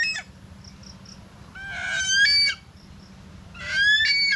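A pet chicken calls out in two short loud bursts of squawking clucks close by, separated by quieter moments with faint background hum.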